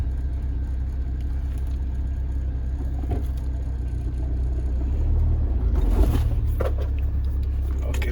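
A 1999 Jeep Wrangler TJ backing up in reverse, a steady low engine rumble and drone that swells slightly near the end, heard close with a brief scraping noise.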